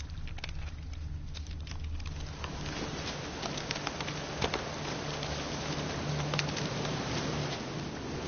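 Steady rain in a PS4 video game, a continuous soft patter with scattered brighter drops throughout, under a low droning background tone.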